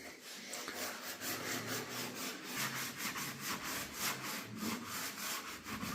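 Close, faint, rhythmic scraping of abrasive strokes on a panel during block sanding, with a steady back-and-forth pattern and no talking.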